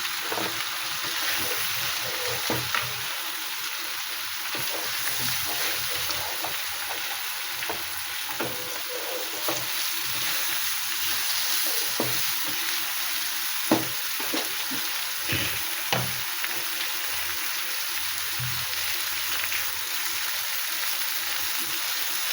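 Ridge gourd frying in a pan with a little ginger, a steady sizzle with occasional soft stirring clicks throughout, no speech.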